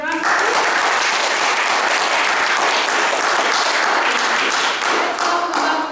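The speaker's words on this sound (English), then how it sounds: "which I think deserves a round of applause" Loud, dense applause from a room full of people at an evening club meeting. It holds at a steady level for the full six seconds, with a few sharper individual claps standing out.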